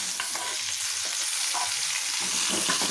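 Tomatoes added to oil with softened green chillies fry in a pan, giving a soft, continuous sizzle with light stirring and spatula scrapes close by.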